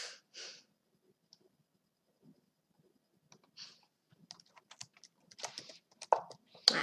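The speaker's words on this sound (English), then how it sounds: "Why am I typing while playing?" Computer keyboard typing during an online chess livestream, scattered quick key clicks that start sparse and grow into a denser burst toward the end, fairly close, with some breathing and no talk.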